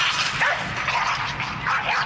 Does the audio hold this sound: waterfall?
no